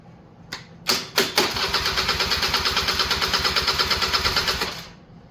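A Honda EZ90 Cub motorcycle engine coughs through a few sharp starting bursts, then settles into a steady, close, loud putter for several seconds before it cuts off.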